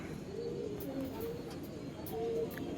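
A pigeon coos softly in low, rolling phrases a few times, fairly faint against steady background noise, with no talk.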